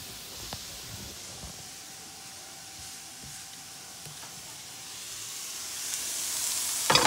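Freshly cut celery sizzles in a frying pan for mock egg rolls. A soft, faint hiss with a few small ticks grows louder and brighter toward the end.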